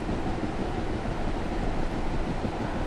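A Union Pacific train in Train Simulator 2016 rumbles past with a steady, heavy, broadband roar that holds constant throughout, nearby and loud, with no voices.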